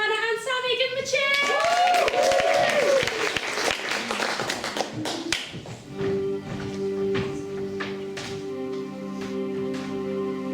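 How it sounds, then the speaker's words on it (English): Audience at a variety show claps and cheers loudly for several seconds, with voices mixed in, then the applause fades as a duet's music begins. "Give them a cheer."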